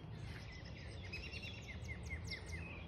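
Birds calling outdoors on a morning walk, a series of short chirps and descending whistles repeating at a steady pace, fairly faint and distant over a low continuous background rumble.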